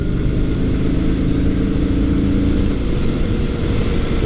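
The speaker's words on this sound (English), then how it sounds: "I'm doing about 50 miles an hour right now in top gear, and roll-on acceleration." Yamaha SCR950 retro scrambler motorcycle rolling on throttle in top gear at about 50 mph, a steady, loud, low engine drone with wind rush, continuous and close.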